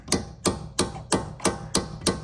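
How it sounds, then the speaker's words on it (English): A medium-sized hammer strikes a brake caliper stud on a 2011 Chevy Malibu, seven sharp metallic blows in a steady rhythm about a third of a second apart, close and alone with no talk. "get yourself a medium sized hammer, hit the stud in,"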